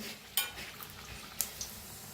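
Carrot puris fry in hot oil with a soft, steady sizzle, broken by a couple of light clinks from a utensil against the pan, fairly quiet and with no talking.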